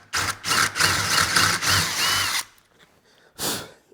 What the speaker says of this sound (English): we're just going to drill a couple of holes all the way through each one of these pieces of our material